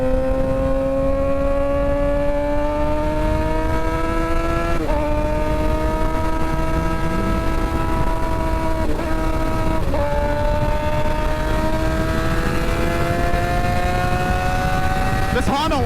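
A Honda engine hums steadily while cruising, its tone climbing gradually with brief dips between gears, continuous and fairly loud over road noise throughout.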